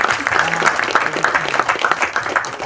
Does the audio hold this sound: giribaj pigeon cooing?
no